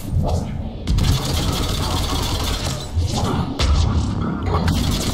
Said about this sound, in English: Yes, sniper fire.